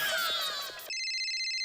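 A telephone rings with a repeating electronic trill that cuts in abruptly after a short stretch of other sound, clear and alone.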